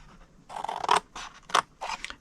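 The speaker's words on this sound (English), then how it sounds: "go to the next 2 score lines and cut them to the second score line." Scissors snipping cardstock along score lines for a snowman treat box, three short crisp cuts in a steady rhythm, close and alone.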